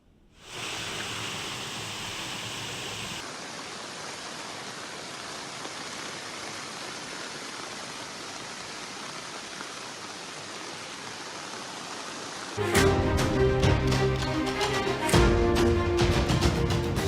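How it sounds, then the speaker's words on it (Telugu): Heavy midnight rain falls on Hyderabad as floodwater rises into villas and apartments, a loud steady rushing hiss for about twelve seconds before sharper, busier sounds join in. "జోరుగా వర్షం పడుతోంది"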